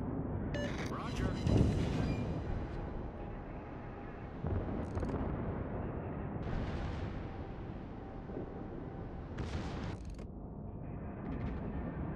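Heavy battleship guns fire in a World of Warships naval battle, with deep booming salvos and rumbling blasts rolling under a steady engine drone, fairly loud and repeated, mixed with voice chatter and radio-style callouts.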